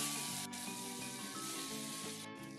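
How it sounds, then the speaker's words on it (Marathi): Cooked drumsticks and toor dal drop into a hot tempering of oil, curry leaves, asafoetida, turmeric and spices, giving a soft, steady sizzle and hiss heard quietly on its own. "फोडणीमध्ये घालायच्या शिजलेल्या शेंगा आणि तुरीची डाळ."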